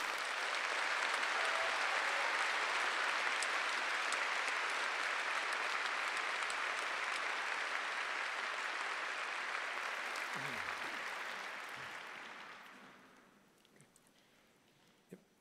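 Sustained, dense audience applause for graduates at an Imperial College postgraduate graduation ceremony, holding steady for about twelve seconds before fading out.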